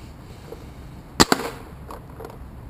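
A black-stock Dangerous Power G3 paintball marker fires two quick close shots, a sharp pop followed by a second, with faint quieter pops trailing after in a quiet setting.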